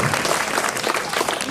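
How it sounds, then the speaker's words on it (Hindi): A school audience at an Independence Day dance programme claps for the dance teacher, dense continuous applause from a crowd, loud and close throughout. "शालू गहलोत के जी के लिए एक बार और तालियां, और जोर से, और जोर से"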